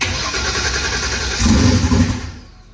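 A 3000 horsepower small block Ford engine fires up with a loud, rough mechanical roar that surges midway and then fades out.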